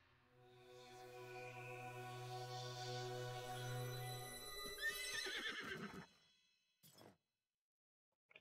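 A revived horse neighing in a video game, a long loud harmonic whinny that rises and trembles before breaking off, followed by a brief clink and a short chime.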